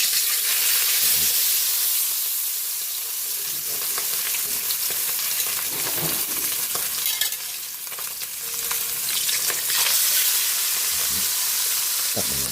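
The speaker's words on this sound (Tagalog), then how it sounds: "Prito na po tayo ng ating isdang iwas." Fish fries in a pan with a continuous loud, bright sizzle and hiss that swells and eases for a long stretch. Occasional stirring and scraping noises can be heard, and no one speaks.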